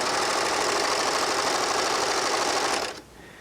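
A Baby Lock serger stitches and trims fabric with a loud, fast, steady mechanical whir that runs continuously for almost three seconds, then stops abruptly, leaving a faint hum.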